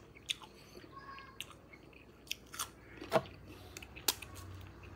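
Someone bites into a crisp guava and chews it, giving a few sharp crunches and soft, quiet chewing sounds scattered across a few seconds.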